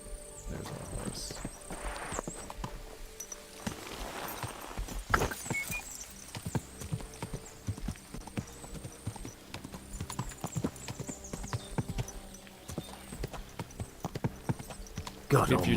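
Steady clip-clop of horse hooves trots along with an occasional neigh in the video game Kingdom Come: Deliverance II, while someone talks over it and game sounds mix in.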